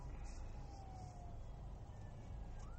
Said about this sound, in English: There's an ambulance trying to get through